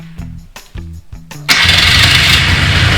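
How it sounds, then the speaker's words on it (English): A four-wheeler ATV's electric starter cranks in several short grinding bursts, then the engine catches and settles into a loud, close, continuous idle rumble. "that starter sounds great"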